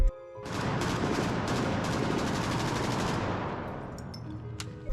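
A dense burst of rapid gunfire, shot after shot rattling continuously for about four seconds, loud and close, then tapering to a few scattered cracks with no voices.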